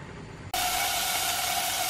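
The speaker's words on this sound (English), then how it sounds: "I'm not sure if you can hear me over the sizzling" Paneer hits a hot pan and a loud, steady sizzle erupts after a half-second of quieter background, hissing continuously up close.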